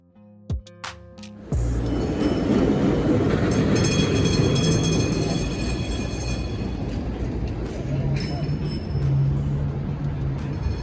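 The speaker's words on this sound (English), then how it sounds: "you can use this tram or Muni or the famous San Francisco trolley" A San Francisco tram rumbles loudly past close by near the Embarcadero station after a few clicks, its steady roar mixed with metallic rattling and a faint squeal.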